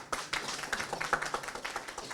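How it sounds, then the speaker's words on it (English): An audience at a launch event applauds, a short burst of dense, steady clapping from many hands in a room, with no talking. "Claps."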